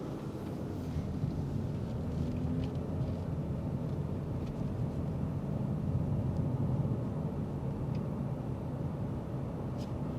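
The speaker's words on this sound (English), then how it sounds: "we're going to get up to speed here, probably up to 50 miles an hour. The road's kind of crappy" Inside a 2016 Porsche Cayenne driving at about 50 mph on a rough road, a steady low rumble of tyre and road noise fills the cabin, constant and moderately loud, with no one speaking.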